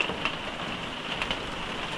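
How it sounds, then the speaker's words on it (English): Steady rain drumming on the roof of a Jayco Silverline Outback caravan, a loud continuous patter with a few sharper drops standing out. "Okay, listen to this. It's raining."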